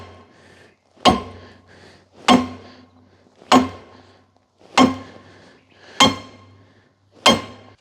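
A sledgehammer striking hard on an outdoor property, six loud, sharp metallic blows evenly spaced about a second apart, each ringing briefly before fading, with no talk.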